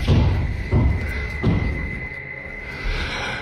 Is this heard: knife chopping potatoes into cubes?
no